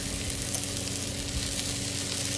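Shrimp and cheese sizzle in a hot pan with a tortilla and drippings for spicy shrimp tacos, a steady close crackling hiss throughout.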